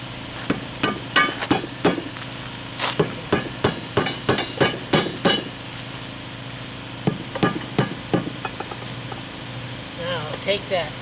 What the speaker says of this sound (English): now we can take that hammer.